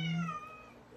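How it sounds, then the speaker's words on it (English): A house cat lets out a single close meow, strong at the start and then trailing off in a thin, fading tail. "Here comes my cat."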